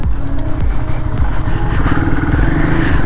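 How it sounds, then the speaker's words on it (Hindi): A motorcycle pushing along a narrow rough side path off-road, its engine droning steadily and loudly close by, with clatter and scraping from the uneven ground throughout. "साइड में थोड़ा सा रास्ता था, वहाँ से कुदा दी हमने अपनी बाइक"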